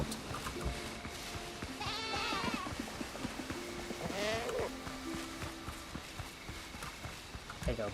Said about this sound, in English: and oh no, there's a goat.